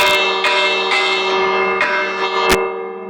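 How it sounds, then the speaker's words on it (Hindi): Bell in a Minecraft Ram Mandir temple build rung in several sharp strikes, each leaving a bright, sustained metallic ring that overlaps the next, loud and close with no talking. "ये घंटी है"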